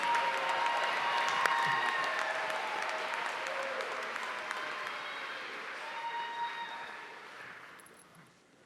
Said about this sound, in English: let's give a round of applause to the degree candidates from the Department of Middle and Secondary